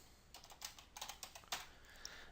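A password is typed on a computer keyboard. Quiet, close key clicks come in quick irregular bursts, with a few louder keystrokes among them.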